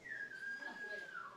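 Silbo, the whistled language of Gran Canaria, produced without fingers: a single sustained, clear whistle that holds a steady pitch and then falls slightly at the end, close and moderately loud.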